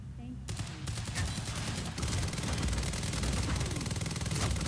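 Rapid gunfire rattles through a firefight in the Quantum Break video game, a dense run of close, loud shots that builds and keeps going with little pause.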